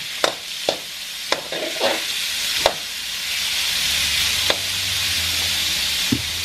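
Pork belly frying in a little vegetable oil gives off a steady, close sizzle, with several sharp clicks and taps from a utensil on the pan over the hiss.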